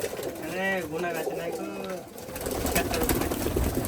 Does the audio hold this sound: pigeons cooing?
yes